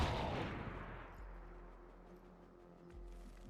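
A grenade blast in the video game XCOM 2 booms loud at the start, then fades into a long, low rumbling tail that stays in the background.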